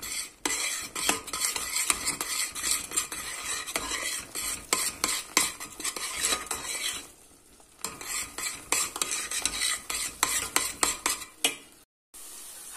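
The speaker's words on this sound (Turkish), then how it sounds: "Ve tekrardan tabii ki de karıştırmaya başlıyorum. Ocağın altını biraz kıstım arkadaşlar. Şöyle hızlı hızlı karıştırıyorum." A spoon beats flour into boiling choux dough for profiteroles in a pot on a low stove flame, scraping and slapping fast and continuously, loud and close, with a brief pause midway.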